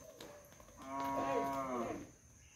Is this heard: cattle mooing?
yes